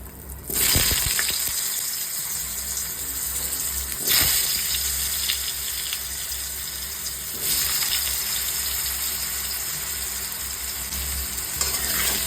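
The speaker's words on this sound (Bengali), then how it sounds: "আগে আমি আলুটা ভেজে তুলে নিচ্ছি" Steady oily sizzling of potatoes frying in a pan, continuous and close, with occasional stirring scrapes and no talking.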